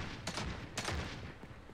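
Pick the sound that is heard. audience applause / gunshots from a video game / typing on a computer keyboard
gunshots from a video game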